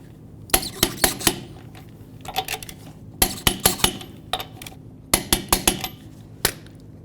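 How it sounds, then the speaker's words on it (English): Torque wrench tightening the lug nuts on a 1999–2007 Ford F-250 rear wheel, a series of sharp metallic clicks and knocks in three close clusters, loud and near, with quieter rattles between. "then we'll torque the lug nuts to 165 foot-pounds"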